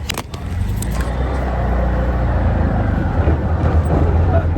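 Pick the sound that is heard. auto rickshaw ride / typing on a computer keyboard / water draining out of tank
auto rickshaw ride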